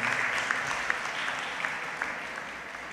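A church congregation claps at a priestly ordination in St. Theresa's Catholic Church, a steady mass of hands, moderately loud and fairly close, running unbroken throughout with a few sharper individual claps standing out.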